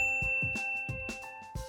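Several bright metallic dings ring out in quick succession like a notification bell chime, clear and close with no talking.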